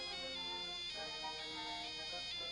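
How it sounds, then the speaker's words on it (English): Touch-tone phone dialing tones from an old television commercial, a quick run of bright beeping pitches stepping from one to the next, faint and alone with no talk. "that's what a touch-tone phone sounds like"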